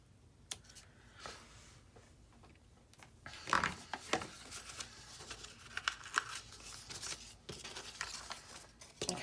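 Scissors snip string on a handmade envelope made from a printed book page, a few soft close cuts amid light paper rustling and handling noises, with no voices.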